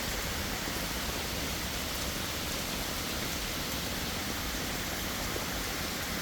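Steady, dense rain falling on a koi pond during a summer thunderstorm, blended with the continuous rush of small waterfalls, an even wash of noise with no pauses and no voices.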